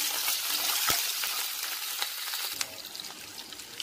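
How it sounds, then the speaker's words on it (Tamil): Green chilli, cumin seeds, fenugreek, mustard seeds and curry leaves tempering in hot oil for a brinjal gravy, giving a steady close broadband sizzle with small crackles and pops throughout, no voices. "நம்ம ஃப்ரை பண்ண வச்சுருக்கிற எல்லா இன்க்ரீடியன்ஸையும் போட்டு தாளிச்சிடலாம்"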